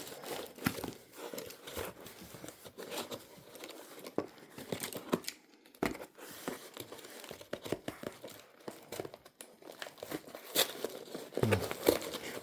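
Tape and cardboard being pulled and torn while opening a large parcel, a busy run of close crinkling, tearing and rustling bursts in irregular rhythm, with no speech.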